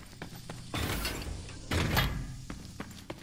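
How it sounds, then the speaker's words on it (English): A door in the video game The Cycle Frontier opens with two heavy mechanical sliding surges, framed by a few short clicks and thumps. "Open this door back up."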